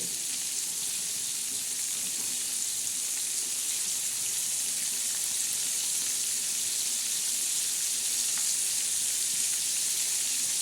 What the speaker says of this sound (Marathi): आज आपण ओले बोंबील कसे तळ तळत आहे मी हे तुम्हाला दाखवत आहे